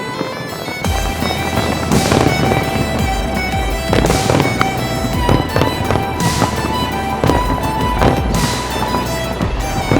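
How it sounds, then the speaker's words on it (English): Loud fireworks at the Asian Games in Hangzhou bursting in steady succession, booms and crackles overlapping with a constant roar, rising to sharp peaks every couple of seconds. "the fireworks of the Asian Games aim high in the sky"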